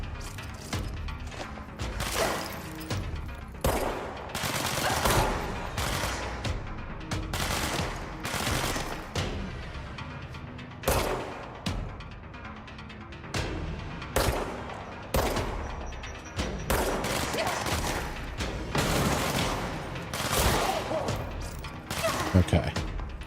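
Gunfire in the video game Control comes in repeated loud bursts and single sharp shots with crashes and thuds between them, and a player talks intermittently over the action.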